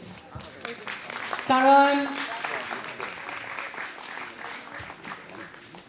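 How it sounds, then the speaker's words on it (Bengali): Audience applause at a family event, a crowd clapping in a moderate burst while a person talks over it and speech continues after the clapping fades. "একটু হাততালি দিন প্লিজ"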